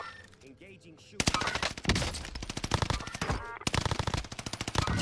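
Video game shooter gunfire: a loud, close burst of rapid automatic shots, then further bursts of rattling fire, with a brief voice at the start.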